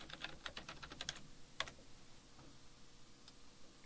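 Keys clatter on a computer keyboard in short quick bursts, then a few isolated taps, quiet and close with no voices.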